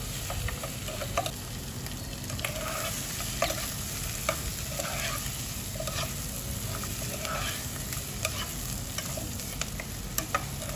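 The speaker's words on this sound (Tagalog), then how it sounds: "Gisahin lang natin siya konti." Chopped pork hock (pata) being sautéed for kare-kare: a steady, close sizzle and fry with frequent small pops and crackles, continuous throughout and heard alone.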